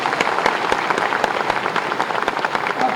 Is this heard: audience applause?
yes